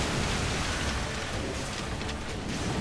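Steady rain pours in Nioh, a dense, even hiss of falling water across a wide band, constant and close with no pauses for nearly three seconds.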